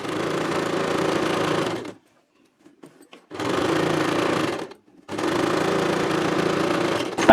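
An electric sewing machine stitching a blouse hums loudly and steadily in three long runs, with short quiet pauses and a few light clicks between them.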